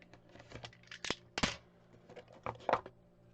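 Samsung Galaxy Buds Plus packaging being cut open at close range: soft scratchy slicing, a few sharp tearing and crackling bursts of cardboard and plastic, quiet between the louder snaps, with no talking.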